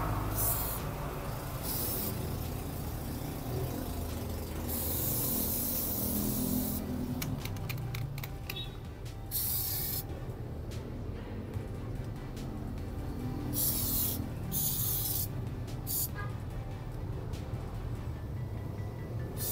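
Flexible rubber coating sprayed from a can in bursts of hissing, with gaps between sprays and a background rumble throughout.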